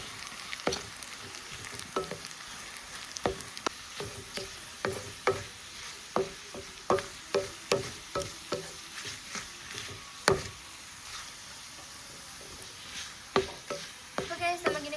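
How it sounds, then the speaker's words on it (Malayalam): Onions and dried red chillies fry in a pan with curry leaves for mambazha pulissery, giving a steady close sizzle broken by frequent sharp scraping taps of a spoon stirring against the pan. "ഇനി ഉള്ളിയൊക്കെ നല്ലപോലെ മൂക്കട്ടെ"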